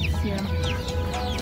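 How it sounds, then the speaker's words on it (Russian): A rooster clucks and calls among the stalls of a busy outdoor market, with people talking nearby and steady market noise underneath. "Голосистый петушок какой-то."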